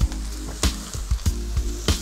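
Sausage added to a pot holding butternut squash, onions and apples: a series of sharp, close thuds and scrapes at a fairly even pace, over a faint sizzle.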